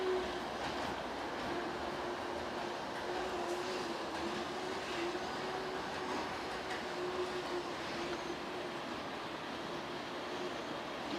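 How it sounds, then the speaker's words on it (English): A model railway train on a layout runs steadily and continuously, with a sustained rolling rumble, faint clickety-clack of wheels on track and a thin whining tone throughout, fairly close, with no talk over it. "and the choo-choo sound, yeah."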